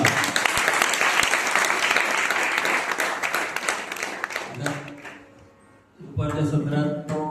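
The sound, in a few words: audience applauding the parents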